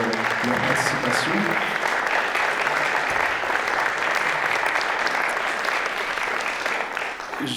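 A cinema audience at a film premiere applauds the film's participants, sustained, even clapping from many hands that fades slightly at the end.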